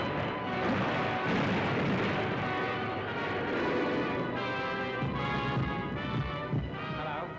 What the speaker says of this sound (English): gunfire in the southeast